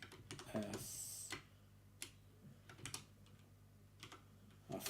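Scattered keystrokes tap on a computer keyboard, a few quick clusters of clicks separated by pauses, fairly close and quiet in a still room.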